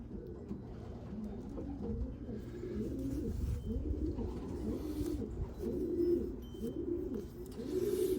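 Newly imported racing pigeons coo softly and repeatedly in low, rolling phrases, a quiet flock murmuring close by with no voices over them.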